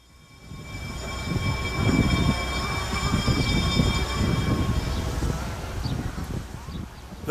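A historic railway train on Oahu rolls along with a rising rumble of wheels and cars, steady and fairly loud, with faint talk underneath and a high squealing tone over the run.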